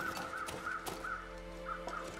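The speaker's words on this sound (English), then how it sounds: "I'm hearing birds, though." Repeated harsh crow-like caws from birds in the video game The Long Dark sound at intervals over a steady low hum, fairly close and clear.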